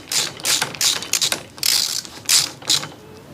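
A ratchet tightening the front hub nut on a quad racer ATV, heard as a series of crisp, close clicking bursts in an uneven rhythm with short pauses between strokes, and no talking.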